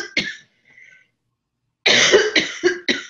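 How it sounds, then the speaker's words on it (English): Coughing from a person in a quiet room: one short cough first, then a faint murmur and a pause, then a burst of three or four loud, close coughs near the end. "one is coughing again"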